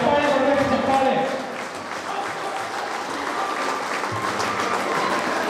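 Steady applause from the audience at a school teachers' felicitation (Guru Vandana) event held at a government higher primary school in Savadi, loud and dense at first and then easing slightly, with crowd noise and a voice underneath.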